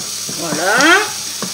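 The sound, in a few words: garlic and onions sizzling in a pan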